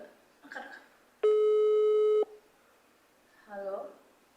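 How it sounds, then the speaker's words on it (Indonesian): A single electronic telephone tone sounds for about a second, clean and steady, between short stretches of speech. "Ada telepon. Angkat gak?"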